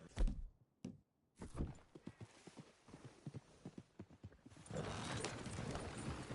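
Horse hooves clip-clopping in a video game, a steady run of close hollow thuds after a couple of heavier knocks, giving way to a dense wash of noise toward the end.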